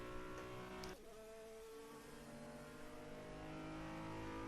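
An Apex Dallara IR18 IndyCar in the rFactor2 racing game accelerates out of the pit lane. Its engine note is loud and steady throughout, with a sharp upshift near the start and a rising howl that continues to the end.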